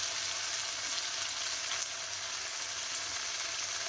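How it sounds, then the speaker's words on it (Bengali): A spiced masala paste fries in a pan with turmeric and cumin powder, giving a steady, soft, even sizzle and crackle with no voices and no breaks. "মশলাটা এবারে কষিয়ে নেব"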